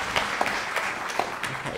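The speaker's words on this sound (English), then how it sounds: "So I think a round of applause." A brief burst of audience applause at a church talk, a dense patter of clapping hands with a few sharper claps standing out, no talking.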